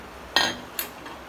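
A metal cooking pot is handled while a flaxseed mixture is being prepared. Two sharp, close clinks come about half a second apart, then a fainter third knock over a quiet room.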